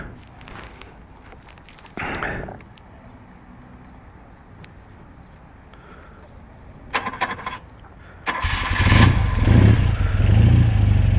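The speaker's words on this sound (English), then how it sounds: "Let's start it up." A 1979 BMW R100S boxer-twin motorcycle comes to life after a few clicks and a brief crank, then settles into a loud, close, rumbling idle that fills the end of the clip.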